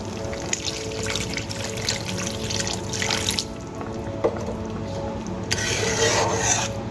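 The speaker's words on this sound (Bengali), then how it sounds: "এবার আমি এর মধ্যে দিয়ে দেব পরিমাণ মতো জল।" Water pours into a pan of Bengali katla fish kalia simmering in spiced yogurt gravy, a steady splashing gush running for several seconds, louder toward the end, with no talking.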